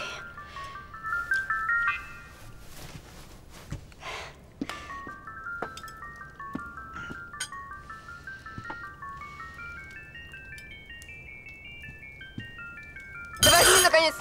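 A mobile phone plays a melodic ringtone tune in a scene from a Russian psychological detective film. The melody repeats steadily through the clip, with a few soft knocks and thuds around it and a brief loud burst of noise near the end.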